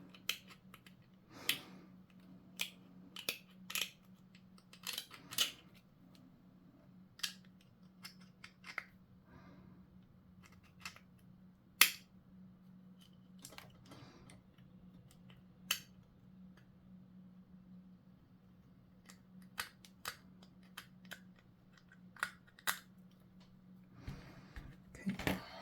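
Small scissors with thin jagged blades snipping plastic parts while a miniature model kit is assembled, a scattered series of quiet sharp clicks and cuts over a low electrical hum.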